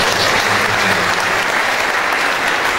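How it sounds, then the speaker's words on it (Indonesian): Church congregation at an Easter service breaking into loud, continuous applause, a dense crowd clapping throughout. "tepuk tangan untuk Tuhan kita."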